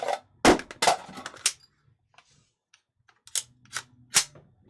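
A suppressed AK rifle fitted with a hybrid sight and new stock fires in a video game: three sharp, close shots in quick succession, a short pause, then three more.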